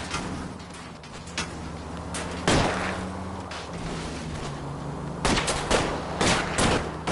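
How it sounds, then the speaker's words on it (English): Gunfire from the video game L.A. Noire, aimed at a fleeing car's tires: several sharp shots with gaps between them, one near 2.5 seconds and a cluster of rapid shots toward the end, over a steady engine-like rumble. "I'll try to shoot out his tires."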